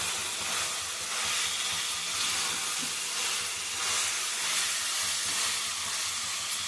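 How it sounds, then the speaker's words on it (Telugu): Green chilies and cauliflower pieces sizzle in hot oil in a pan on a stove, a close, steady hiss with gentle swells and no talk. "కొంచెం ఆయిల్లో కొంచెం మగ్గనివ్వాలి మంచిగా. పచ్చిమిర్చి, కాలీఫ్లవర్ ముక్కలు కొంచెం మగ్గనివ్వాలి"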